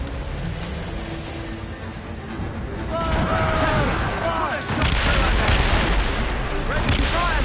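Ship cannons fire in a naval battle in Assassin's Creed Rogue, heavy booms and rumbling blasts building up after a quieter start, with shouted crew commands mixed in.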